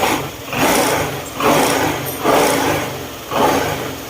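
A Honda ADV150 scooter engine, freshly valve-adjusted, revs up in four strong, rising bursts about a second apart, each throttle blip swelling and falling back, loud and close with no voices.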